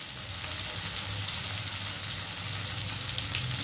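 Chicken sizzles in oil in a pan while being fried for chilli chicken, a steady, close, dense hiss that carries on evenly with no talking.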